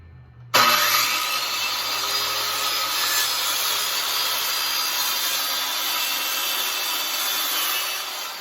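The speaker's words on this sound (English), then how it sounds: "So the first thing I'm going to do is square the end off of this board here. So I have the circular saw." A circular saw squares off the end of a wooden board. It bites in abruptly after half a second and then rips steadily with a loud, harsh, continuous whine until the end.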